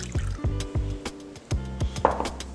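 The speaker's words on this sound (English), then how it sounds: "Add the 1/4 cup of milk and the 1/4 cup of water to a bowl." A quarter cup each of milk and water poured into a bowl for cinnamon roll dough, heard as a short series of gurgling, glugging splashes close by, with a brief clink near the end.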